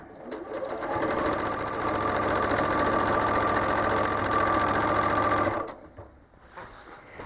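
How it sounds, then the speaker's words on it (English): A sewing machine machine-quilting fabric hums in a fast, steady whir of stitching, loud and close, from about one second in until it stops near the end, with no talking. "So I'm holding the fabric, pressing the foot pedal down, and moving my hands once the needle's going."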